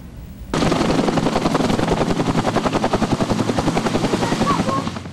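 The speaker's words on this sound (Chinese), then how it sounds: "我方 OH-58 战术直升机也赶来支援" An OH-58 military helicopter at an army drill, heard as a loud, steady, close rotor thump with rapid chopping pulses that run without a break after a short quieter lead-in.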